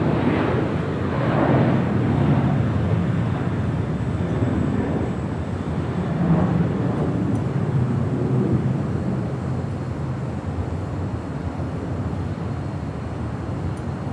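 A Delta airliner taking off from runway 24 left at Los Angeles International Airport, a broad rumbling jet roar heard from a distance, rising and falling steadily with wind buffeting the microphone.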